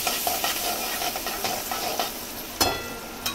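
Cumin seeds frying in melted butter in a kadai, a steady close sizzle with faint scraping and stirring clicks and one sharper crackle near the end.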